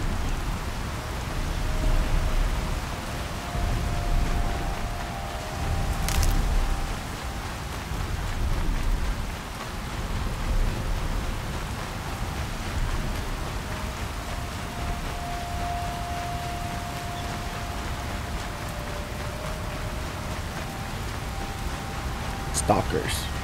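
A steady rainstorm in Horizon Zero Dawn hisses evenly throughout, with a low rumble underneath and a few sharp crackles that could be thunder or game effects.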